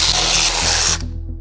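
Fogging oil is sprayed from an aerosol can into the cylinders of a VK56 engine through a spark plug hole: a loud, close hiss for about a second that then cuts off.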